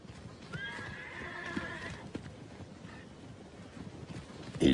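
Wild Mustang horses in open country: a clear neigh rising in the first seconds, with scattered hoof thuds and movement sounds, moderately distant and fairly quiet, a louder knock at the end.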